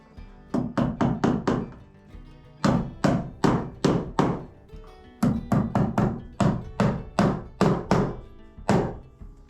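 A hammer drives staples to fasten wire, striking in quick clusters of four to six sharp, close knocks separated by short pauses, loud and clear with no talking.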